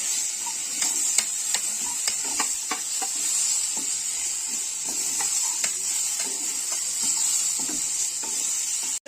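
Ginger, garlic, onion and tomato roasting in oil in a pan, a continuous bright sizzle with repeated scraping and stirring knocks throughout.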